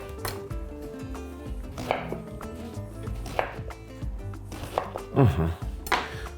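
A knife chops eggplants on a board, around half a dozen sharp, irregular strikes close up, with faint tonal background sound beneath.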